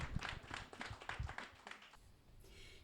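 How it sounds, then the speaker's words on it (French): A small studio audience at an amateur music talent show claps quickly and loosely for a singer, the patter faint and distant before fading into near quiet. "on applaudit Nancy"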